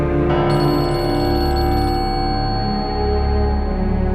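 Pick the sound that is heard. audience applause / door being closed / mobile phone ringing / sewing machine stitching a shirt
mobile phone ringing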